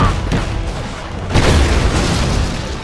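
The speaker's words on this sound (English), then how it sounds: "Napalm strike inbound." A napalm strike detonates in the real-time strategy game Rise of the East, a loud, deep boom swelling at once into a sustained rumbling roar of fire that fills the rest of the moment, close and heavy.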